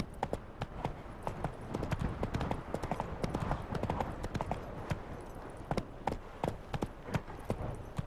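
Hooves of a horse galloping in The Witcher 3 clip-clop in a fast, steady rhythm, close and loud throughout, with occasional voice underneath.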